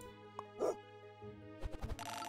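In the video game Super Auto Pets, a cartoon dog gives a couple of short yips and barks over soft game music, ending with bright chiming sound effects.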